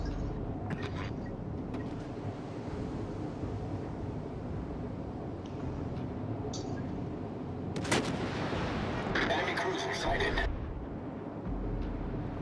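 Naval artillery fire in the World of Warships: Legends game, a dense low rumble of repeated gunfire and booms with bursts of crackling, and a voice speaking over it.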